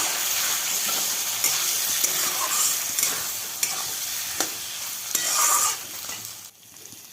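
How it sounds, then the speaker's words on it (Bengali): Pre-fried potatoes tossed into a hot pan and stirred for a Bangladeshi-style curry, a steady loud sizzle broken by sharp scrapes and clinks of the spoon against the pan, with no one speaking. "এবার আলু দিয়ে দেবো, ভেজে রেখেছিলাম আলু, সেই আলুগুলো দিয়ে দিলাম।"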